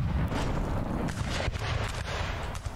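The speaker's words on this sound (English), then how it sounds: "Oh, that cannon did friendly fire." Heavy cannon fire in the Rise of Liberty video game, sustained loud booming and rumbling battlefield blasts with no pause.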